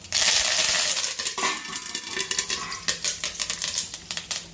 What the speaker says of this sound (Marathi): तेल गरम झालं आहे मोहरी घालणार आहोत जिरं घालूयात आणि थोडासा कढीपत्ता